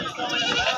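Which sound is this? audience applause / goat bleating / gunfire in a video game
goat bleating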